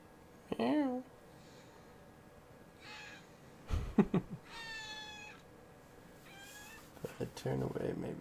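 A person imitates a cat, giving a few separate, tonal meows with pauses between them, close and fairly loud.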